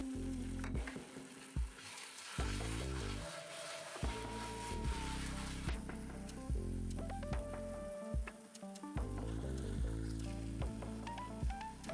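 Tomatoes and coriander sautéing in a pan give a steady, close sizzle with frequent scraping and stirring clatter throughout, no talk.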